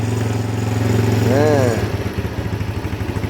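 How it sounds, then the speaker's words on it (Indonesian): A Honda GL Max 125 motorcycle runs close by, its engine and exhaust holding a loud steady drone that drops into a pulsing, lumpy idle thump midway; a voice briefly rises over it. "Nah ini ciri khas knalpot ini nggak berebet, kata orang-orang mah."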